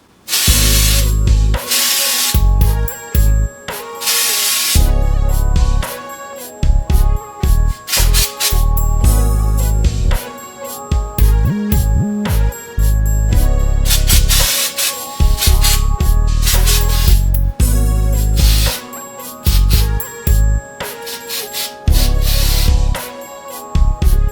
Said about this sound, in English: this is my purple hairspray.